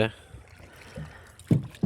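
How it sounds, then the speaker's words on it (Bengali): Oar strokes from a boat being rowed on a big river during a fishing trip, heard as a few short watery splashes close by, with speech around them. "এই যে ইব্রাহিম নৌকা বাইতেছে"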